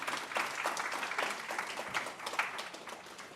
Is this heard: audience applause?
yes